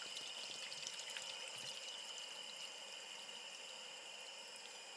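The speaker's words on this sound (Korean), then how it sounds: "집에서 가져온 물을 붓고" Water brought from home being poured into a cup of instant ramen, a steady splashing, trickling pour that runs unbroken and fairly close throughout.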